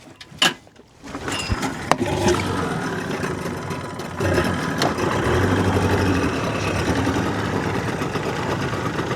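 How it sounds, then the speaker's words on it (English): A temperamental two-stroke outboard on a small sea fishing boat off Cornwall clatters and thumps as it starts, then settles into a steady buzzing run close by, with no voices. "The joys of a two-stroke, this is."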